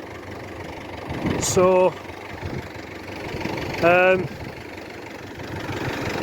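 David Brown 1210 tractor engine running on the road, a steady low mechanical drone throughout, joined by two short harmonic whining tones, with someone speaking briefly over it.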